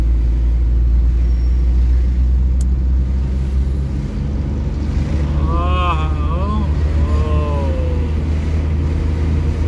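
Steady low engine rumble of road traffic, likely a passing car with a brief horn-like tone partway through, heard continuously with people talking faintly.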